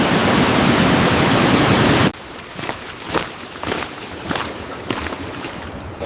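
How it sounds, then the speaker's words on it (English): A waterfall at a forest campsite, heard as a loud, steady rushing roar for about two seconds that breaks off abruptly into quieter outdoor rustling and crunching footsteps. "the sound of this waterfall is so relaxing"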